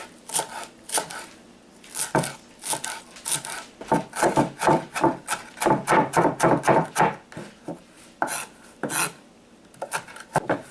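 Knife chopping cilantro leaves and stems on a cutting board, a close, steady run of quick sharp taps in bursts with brief pauses, no talking.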